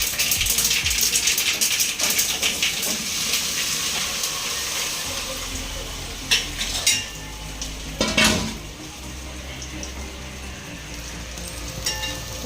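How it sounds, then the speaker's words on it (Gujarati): A metal spoon stirs steamed dudhi methi muthia in a pan with cumin, curry leaves and sesame seeds over low heat. Close clinks and scrapes repeat over a steady soft sizzle, with a brief louder clatter near the end. "પછી આ રીતના હલાવી લેવાનું છે."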